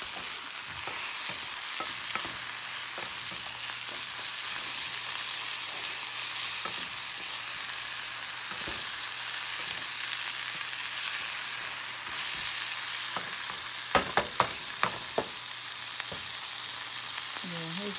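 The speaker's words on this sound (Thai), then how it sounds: "มาผัด" Holy basil sizzles steadily in a hot pan with garlic and chili as it is stir-fried, a constant frying hiss with occasional scraping and clacking of a utensil against the pan, close and moderately loud.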